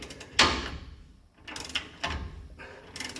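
Corroded U-bolts being tightened on a 1989 GMC truck, with a series of close, uneven mechanical ratcheting and grinding bursts separated by brief pauses.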